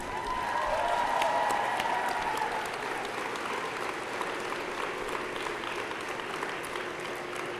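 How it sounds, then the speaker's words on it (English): Graduating class at a university convocation applauding steadily, a dense, sustained wash of clapping from a large crowd in a hall, fairly even throughout with slight swelling early on. "I invite you, the members of the graduating class, to reciprocate by applauding your family, friends, faculty, and staff"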